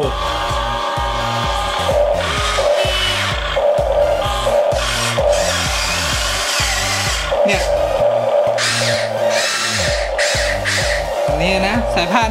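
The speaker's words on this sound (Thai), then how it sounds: "นี่นะสายพานนี่เสียงเหล็กชัดๆเลย" Loud, continuous metallic grinding and clanking of the all-steel tracks of a radio-controlled toy excavator rolling along, with a steady rhythmic churn and mechanical whine throughout.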